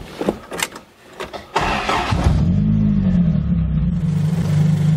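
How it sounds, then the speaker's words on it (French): Starter cranking, then a car engine catching on an SR5 just fitted with a new alternator, after a few quiet clicks and rattles. It settles into a loud, steady idle up close. "On va aller démarrer l'auto."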